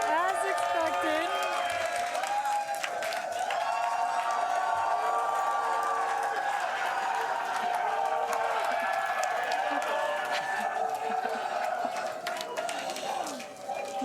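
A crowd at the Starship Flight 7 launch event in Hawthorne cheers, whoops and claps in a steady dense roar that holds for the whole stretch, with voices mixed into the noise.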